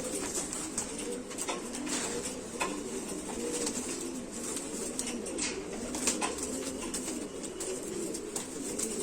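Pigeons kept as a breeding pair setup coo softly and continuously at moderate distance, with faint chirps and wing or cage rustles mixed in, and no one speaking.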